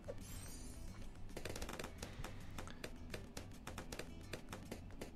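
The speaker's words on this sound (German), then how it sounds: "Und ganz schnelle Schüsse." Rapid gunfire from towers in the video game Bloons Tower Defense 6, a dense run of fast, sharp shots layered over steady game music, with no talk.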